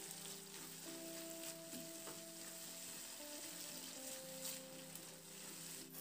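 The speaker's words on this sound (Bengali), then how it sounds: "এবার মটরশুঁটিটা দিয়ে মশলার সঙ্গে খুব ভালো করে এবার একটু নাড়াচাড়া করে নিচ্ছি" Green peas being stirred with spices in a frying pan while a steady sizzle runs underneath, with the spatula scraping and clattering now and then, close and even.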